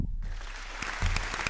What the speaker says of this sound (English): Spread a round of applause one more time.